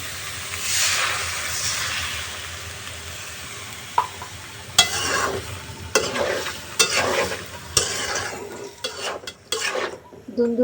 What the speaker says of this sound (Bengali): ফুলের তরকারিটা আমার কষানো হয়ে গেছে